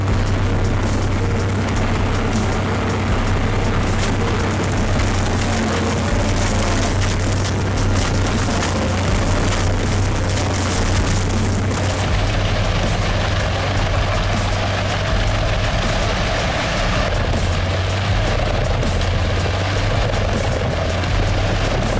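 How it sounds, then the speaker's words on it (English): A heavy machine roars steadily and loudly for the whole stretch, with constant grinding and crushing noise as logs are chipped. "The giant machine easily swallows each large log, crushing them into small pieces in a split second."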